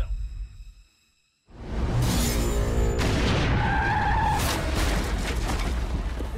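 In a drama scene, a truck skids with a sudden loud roaring rush of tires and a whooshing impact after a brief hush, staying heavy and close for several seconds with a squealing tone running through it.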